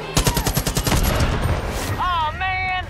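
Rapid gunfire rattles close and loud in the video game Far Cry New Dawn, a fast string of shots lasting over a second before fading, followed by a voice speaking.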